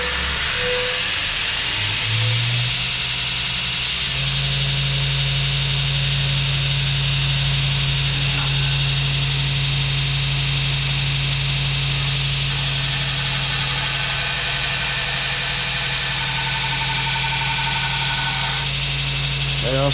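A belt grinder with a grinding jig shapes the bevels on a knife blade, giving a loud, continuous whirring drone with a steady hum and a scraping edge throughout.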